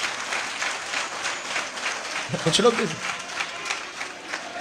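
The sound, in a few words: audience clapping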